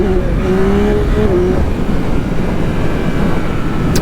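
A Yamaha motorcycle engine revs up close, with a rising pitch that climbs through the first second and a half, then settles into a steady, loud mechanical drone.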